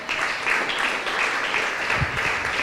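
A church congregation claps steadily during a Spanish-language sermon, a dense, even wash of applause filling the whole moment at moderate loudness.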